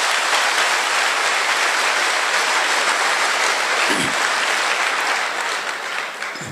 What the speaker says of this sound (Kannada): ಜೋರಾಗಿ ಚಪ್ಪಾಳೆ ಹೊಡಿತು